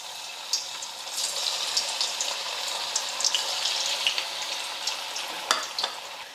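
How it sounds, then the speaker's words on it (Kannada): Churumuri vada fritters sizzle in hot oil in a pan, a close, steady bubbling hiss with scattered sharper pops and no talking. "ನಾ ಮಾಡ್ಕೊಂಡಿರೋ ವಡೆ ಎಣ್ಣೆ ಬಿಡ್ತೀನಿ ನೋಡ್ರಿ"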